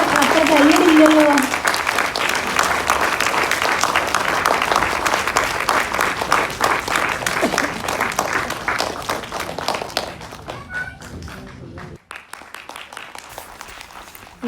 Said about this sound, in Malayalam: കയ്യടി പോരാ, ആളെ അത്ര കയ്യടില്ലല്ലോ.